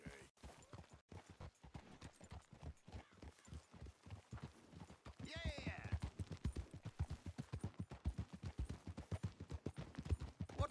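Horse hooves clip-clop in a steady, fairly fast rhythm while riding in Red Dead Redemption 2, continuous throughout and growing slightly louder midway, with game sounds in the background.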